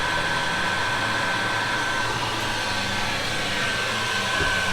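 A heat gun blows a loud, steady rush of hot air onto heat shrink tubing next to styrofoam during a vintage refrigerator repair, with no talking.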